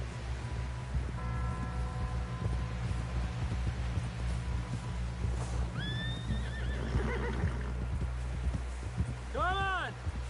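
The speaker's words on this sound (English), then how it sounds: "Someone help John down off this horse." In Red Dead Redemption 2, a horse whinnies loudly twice amid hoof clip-clops, with a low steady rumble of background noise throughout; no one speaks.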